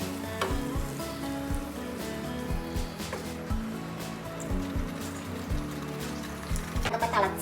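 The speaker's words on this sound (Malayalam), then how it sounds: "ഇനി പുളി നമ്മൾ അങ്ങനെ കലക്കി വെച്ച് പുളി ഇതൊഴിക്കുക." Tamarind water poured into a hot pan for sundakkai kuzhambu, a South Indian curry, hisses and bubbles steadily, with a continuous sizzle, irregular pops and a few clinks against the pan.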